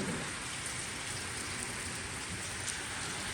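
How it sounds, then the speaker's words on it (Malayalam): Heavy rain falls steadily and evenly throughout, a dense, constant hiss of drops on surfaces with no voices over it. "നല്ല മഴ."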